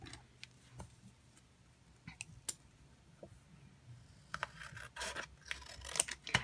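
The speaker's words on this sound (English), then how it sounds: "So let me trim this bottom piece off." Scissors trimming a piece of card stock for a Christmas shaker card: faint, close, scattered snips and soft rubbing clicks, growing denser toward the end, with no talking.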